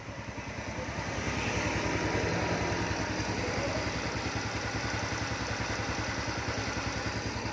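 A Thai-market Honda Dream motorcycle engine with a bored-out, modified block idles steadily nearby, its low, even exhaust putter running continuously without talk.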